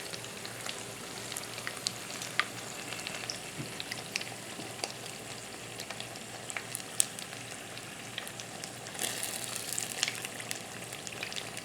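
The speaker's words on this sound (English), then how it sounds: "They always fry faster after you flip them on that second side because everything in there is already hot." Jalapeno bacon wonton poppers frying in hot oil on their second side, a steady close crackling sizzle with scattered pops and a brief louder burst of bubbling near the end, no voices.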